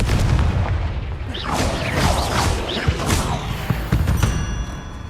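Spell explosions and impact booms from the video game Hogwarts Legacy burst out in a rapid sequence of loud thumps and crashes, layered with magical whooshes and debris over a busy game soundscape.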